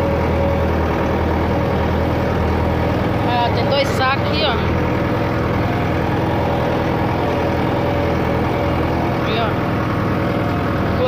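A tractor engine idles loudly and continuously on a farm while bean sacks are loaded, a steady low rumble under close talking.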